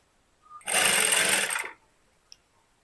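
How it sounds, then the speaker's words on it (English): A sewing machine stitches a dart on fabric for a bustier top, running in a single loud, steady burst of about one second, followed by a tiny click and then silence. "I'll go ahead and stitch the dart first, both back parts."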